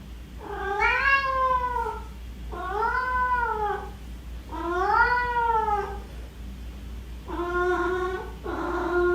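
A cat named Zeke meows repeatedly, four or five drawn-out, rising-and-falling cries, loud and close, separated by short pauses, with no talking.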